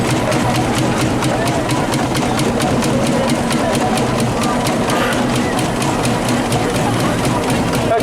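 An old Marshall traction engine, about a century old, running steadily at a steam rally, its chuffing engine note loud and close and continuing without a break throughout.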